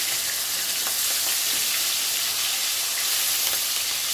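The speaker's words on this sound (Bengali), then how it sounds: "ইলিশ মাছ বেশি কড়া করে ভাজতে নেই" Hilsa fish pieces frying lightly in hot oil in a home kitchen, giving a steady, close sizzle and crackle with faint pops throughout, no voices.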